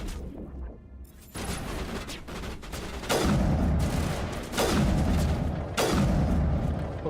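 Gunfire in Mass Effect Legendary Edition, a quieter opening that gives way to loud booming shots and bursts recurring every second or two, close and dominant.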